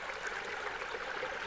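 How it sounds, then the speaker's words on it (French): A clear woodland stream flows steadily, a close, continuous babbling and trickling of water over stones with no voices. "ça c'est le ruisseau un peu plus haut"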